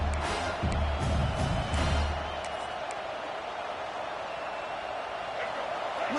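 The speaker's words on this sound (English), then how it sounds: "Listen to the crowd energy here in the early going." A steady, dense crowd roar fills an NCAA college football video game stadium, loudest in the first two seconds and then settling to a constant background din.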